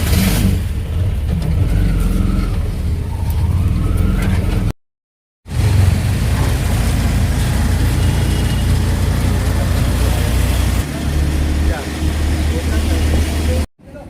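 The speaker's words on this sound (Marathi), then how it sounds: "आपला रिक्षा बुक केलेली आहे आणि त्या रिक्षातून चाललो आहे." Auto rickshaw engine droning steadily during a ride in Jaipur, a loud continuous low rumble with traffic noise and people talking over it, briefly cut out once.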